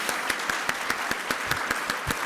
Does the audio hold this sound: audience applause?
yes